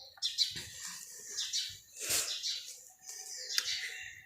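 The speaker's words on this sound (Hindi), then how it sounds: "अभी भी यहाँ पर चिड़ियों की आवाज़ें हैं" Small birds chirp outdoors in short, bright bursts, several calls scattered through a few seconds, fairly close and clear against a quiet background with no speech.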